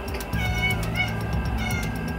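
A cat meows repeatedly in a home kitchen while salami slices are being cut for pasta, the calls close and fairly loud over a steady low background hum.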